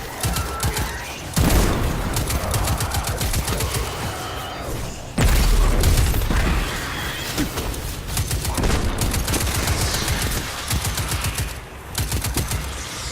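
Weapons fire loudly and nearly without pause in the shooter Destiny 2, with rapid automatic bursts and heavier booming blasts layered in a dense, continuous barrage.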